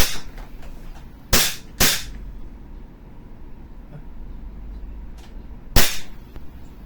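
WE Glock 18C Gen 4 airsoft pistol firing on semi-auto: three sharp, loud gas-blowback cracks, two close together and one a few seconds later, with faint handling noise between.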